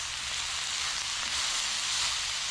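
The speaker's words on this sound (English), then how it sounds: "And give this a little stir." Shredded cabbage for an egg roll bowl sizzling and frying in a pan as it gets stirred, a steady, fairly quiet hiss with no talking.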